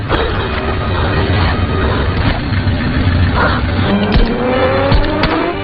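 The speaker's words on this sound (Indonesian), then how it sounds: "tiba-tiba datang seseorang membawa Mirta menaiki motor" A motorcycle speeding away during a film chase scene, its engine roaring loudly and continuously with squealing and skidding tones layered on top.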